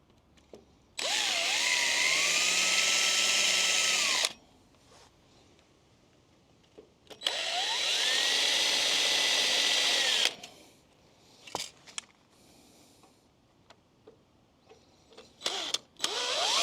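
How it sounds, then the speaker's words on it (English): An electric drill bores holes through a trailer tongue in two long bursts, each whining steadily for about three seconds, with clanks and handling noises in the quiet between them. "So I'll have to drill a couple holes in the tongue"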